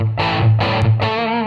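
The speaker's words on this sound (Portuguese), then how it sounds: "se eu quiser o som mais crunch, eu desligo esse pedal aqui" Crunchy electric guitar tone through a Line 6 POD X3 Live with the overdrive pedal switched off, three strummed chords ringing with mild distortion, close and fairly loud.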